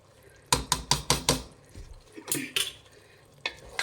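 Spoon scraping and clinking against a metal bowl or pan while spice powders (coriander, chilli and garam masala) are mixed for mushroom biryani, about half a dozen sharp taps in a quick rhythm, then a few softer scrapes, close up with no talking.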